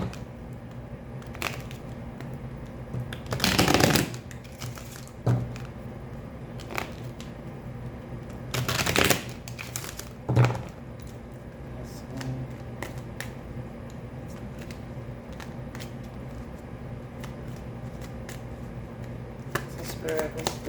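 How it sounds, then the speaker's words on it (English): A deck of tarot cards is shuffled close by, with two loud riffling bursts and scattered softer card taps and flicks over a quiet room hum; someone speaks softly at times. "I always, shuffle a little more just so that way it's seen that it's being shuffled."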